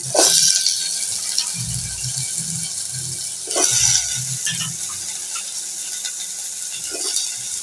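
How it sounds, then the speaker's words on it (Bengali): Pumpkin and vegetables frying with spices in a pan, a steady sizzle broken by scraping stirs and rattling strokes of a spatula, close and fairly loud. "এখন আমি সবজিটাকে ভালো করে কষিয়ে রান্না করব।"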